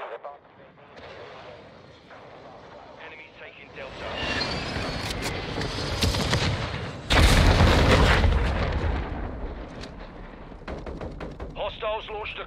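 Cruise missile strike in Modern Warfare 2 Ground War, rising rumble building into a heavy blast and roaring explosion midway through, with gunfire crackling around it and faint voices.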